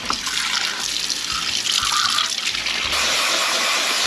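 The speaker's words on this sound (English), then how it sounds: "we are going to wash the quinoa" Tap water runs steadily into a kitchen sink while quinoa is rinsed, a loud continuous gushing rush with a brief change in flow near the end, no voices.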